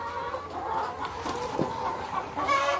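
Hens cluck repeatedly in a chicken-raising yard, several birds close by, steady murmuring clucks with occasional sharper calls.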